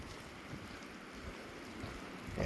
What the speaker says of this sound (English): Boy, that wind.